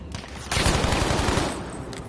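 Sustained automatic gunfire in Battlefield V: a loud burst of rapid rhythmic shots erupts after a brief pause and pounds on steadily for about a second before tailing off into ambient battlefield noise.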